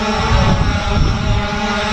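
A Hubsan Zino 2 drone in flight outdoors, a loud continuous propeller whine and buzz with rumbling wind noise, steady throughout at close range, with no talking.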